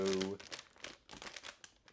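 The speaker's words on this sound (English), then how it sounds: "Let me fucking crumple this shit up" A plastic wrapper is crumpled by hand in a few quick crinkling bursts, close and fairly loud, right after a brief voice at the start.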